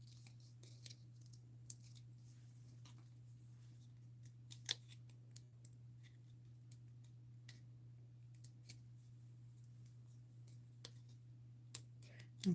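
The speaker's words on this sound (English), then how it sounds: "Pull out these paper backings." Paper backings are peeled off card-making pieces: small scattered crisp clicks and soft tearing ticks, faint and close, over a steady low electrical hum.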